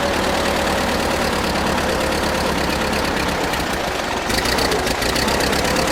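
A rough, loud old Ford tractor engine, on an amphibious conversion, idles unevenly with a steady mechanical clatter and knocking, running continuously up close and nearly stalling from a poorly tuned carburetor.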